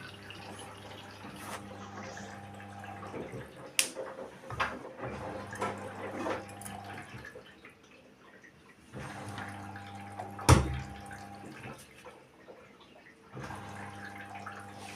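A Far washing machine runs a fast cycle, its drum sloshing water with intermittent churning bursts that pause and start again, plus a sharp clunk near the middle, moderately close with no talk.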